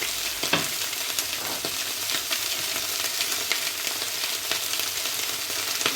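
Asparagus sautéing in a hot pan over medium-high heat, seasoned with salt and pepper: a steady, close sizzle with light crackles and occasional stirring clicks, no voices.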